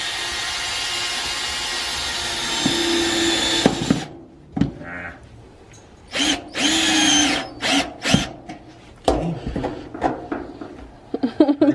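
Power drill driving a mounting screw into a minivan: a loud whirring run for about four seconds, then short bursts and taps as the screw seats, with brief talk under it.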